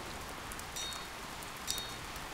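Continuous rain in the video game Die Gilde 3, a steady even hiss of falling drops with a few brighter splashes, filling the whole moment without speech.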